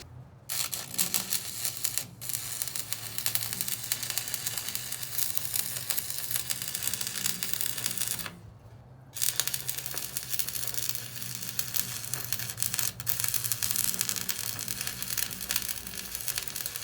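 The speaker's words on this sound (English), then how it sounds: "what I'm going to do is I'm going to weld right here" Arc welding on a steel truck rim being built into a fire pit, a loud steady crackling sizzle running for long stretches with one short pause midway before the buzzing arc resumes.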